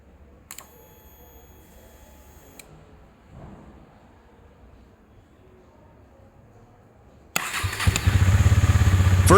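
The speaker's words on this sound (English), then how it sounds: "Let's start the bike and see how it goes." A Husqvarna Vitpilen / KTM Duke 250 motorcycle fitted with a FuelX module fires up near the end, its engine catching abruptly and settling into a loud, steady idle after a long stretch of quiet handling noises.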